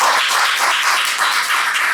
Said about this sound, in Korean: 마지막 강의를 여러분의 힘찬 박수로 시작하도록 하겠습니다